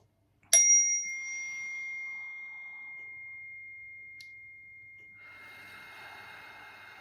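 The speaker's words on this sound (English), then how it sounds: "A long chime." A single bright bell or chime struck once, ringing out clearly and sustaining for several seconds as it slowly decays, with faint room noise behind it.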